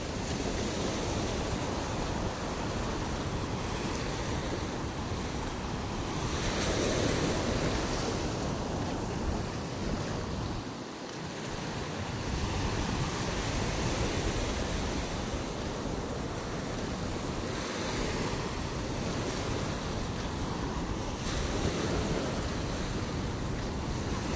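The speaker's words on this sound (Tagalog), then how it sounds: "Medyo mahina na rin ang agos sa ilog." A river current gives a steady, even rushing wash that fills the whole stretch with only slight swells and dips, with no talking over it.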